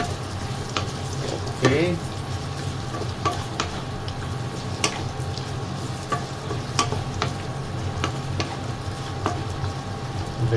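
Mung beans and meat sautéing in a pan, sizzling steadily while a utensil stirs and scrapes in irregular clicks, with a brief spoken word over the frying.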